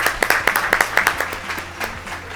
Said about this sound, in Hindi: तो आइए ज़ोरदार तालियों में एंजेला को भी इनवाइट करेंगे।